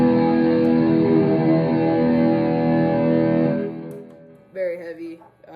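Octave lead patch on a Headrush Core modeler: a thick, distorted electric guitar note rings out loud and sustained for several seconds, then decays, followed by a brief wavering bent phrase at the end.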